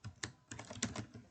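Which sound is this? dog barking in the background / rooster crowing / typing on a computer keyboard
typing on a computer keyboard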